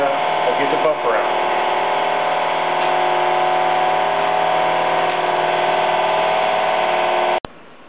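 An electric buffer runs steadily and loud for about seven seconds on a fiberglass boat mold during mold prep, a constant motor whine with a faint voice briefly over it early, then cuts off sharply.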